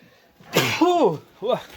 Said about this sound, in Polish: przepraszam, na kichanie wziął od tego kurzu